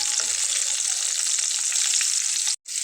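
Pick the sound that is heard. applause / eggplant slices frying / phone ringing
eggplant slices frying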